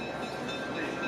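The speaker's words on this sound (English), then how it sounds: "Train ride still going on outside." A train ride running outside a railway museum, heard from indoors as a faint, steady distant rumble with a thin high tonal whine, continuous and even.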